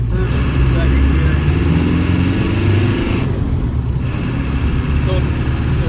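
A 1992 Land Rover Defender 110 with the 200Tdi diesel engine, heard from inside the cabin while driving, gives a loud, steady low drone that fills the whole stretch without pause.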